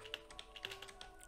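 A short run of quiet, rapid keystrokes on a laptop keyboard as a command is entered, about ten soft clicks in a little over a second.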